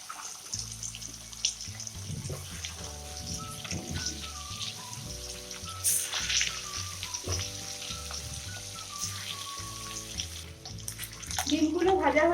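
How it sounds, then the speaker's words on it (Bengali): Potato pieces and eggs rubbed with salt and turmeric sizzle steadily in hot oil in a pan. The crackling frying noise runs the whole time, with occasional stirring and clattering on top. "এবার আমি প্রথমে আলু আর ডিমটা ভালো করে ভেজে নেব।"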